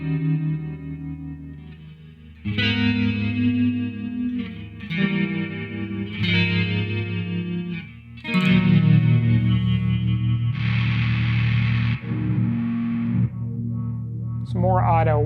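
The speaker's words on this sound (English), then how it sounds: "It does have the ability to do tremolo in it as well." An electric guitar plays through the tremolo effect of an ADA MP-2 preamp, giving a processed, effected tone. Loud chords and notes start and stop in uneven bursts, then sustain into a long, pulsing held passage.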